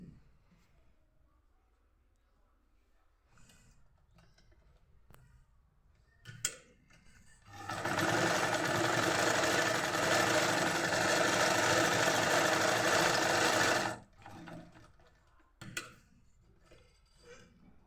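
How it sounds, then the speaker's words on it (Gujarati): A home sewing machine stitches along both sides of a hand purse, running in one loud, steady burst of about six seconds, framed by quiet handling clicks and taps before and after. "તો આપણે આ બંને બાજુ સિલાઈ લગાવી લઈશું."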